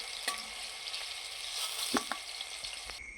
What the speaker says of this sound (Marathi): हे सर्व साहित्य आपण व्यवस्थित असं भाजून घेऊया।